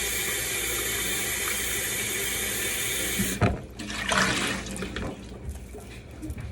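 Peeled boneless pork ribs rinsed under running tap water in a kitchen sink, a steady broadband gush that cuts off partway, followed by wet splashing and handling of the meat.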